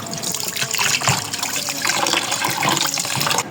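Rohu fish being washed by hand in water, with continuous splashing, trickling and sloshing close by, fairly loud and busy throughout, with no talking.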